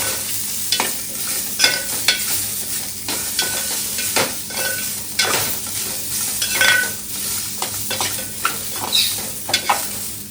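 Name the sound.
raw mango pieces frying in oil in a pan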